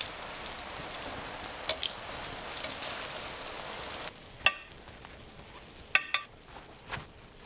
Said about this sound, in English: We're frying them 5 minutes about on each side.